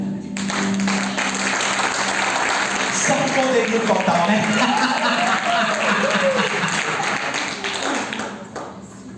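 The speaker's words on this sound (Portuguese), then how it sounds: "Aplauda as mulheres aí, por favor." A church congregation applauds during a sermon, steady clapping that fills the whole stretch while someone speaks over it, fading slightly at the end.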